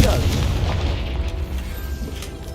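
Confringo fire spell blast in Hogwarts Legacy: a booming explosion with rumbling low-end debris that tails off over a couple of seconds.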